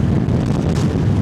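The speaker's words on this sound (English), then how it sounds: "with all the wind coming through" Loud, steady buffeting wind roars into the microphone while riding a motorcycle on a windy road, a dense low rumble with no talk.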